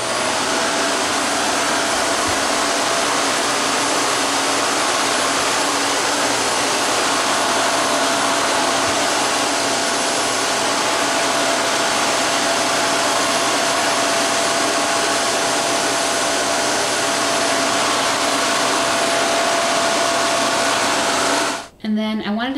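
A Shark Apex DuoClean vacuum cleaner runs continuously at the end of a treadmill, giving a loud, steady motor whine and airflow hum that cuts off abruptly at the very end.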